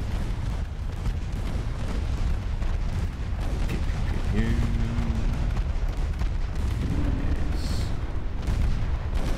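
Artillery booms roll out from both sides in a war strategy game, a dense, continuous rumble of distant cannon fire with a voice speaking briefly over it.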